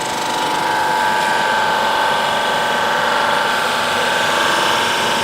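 A drum sander runs with a loud, steady mechanical drone and a constant hum throughout, with no pauses.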